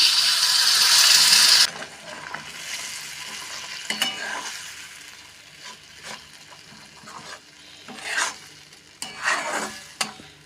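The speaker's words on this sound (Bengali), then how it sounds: "যতক্ষণ না গায়ে এই এক্সট্রা জলটা শুকিয়ে আসছে ততক্ষণ অবধি নাড়াচাড়া করে নেব" A loud burst of sizzling as ridge gourd paste with garlic and dried chillies goes into a frying pan fades into scraping and stirring, with intermittent clinks and soft sizzle continuing underneath.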